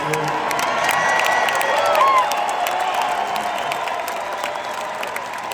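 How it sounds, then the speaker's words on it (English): A rally crowd in Glendale, Arizona cheering and applauding, a dense sustained roar of clapping with scattered whoops and shouts that swells slightly midway and stays loud throughout. "I don't think I've ever introduced anyone that got applause like he just got"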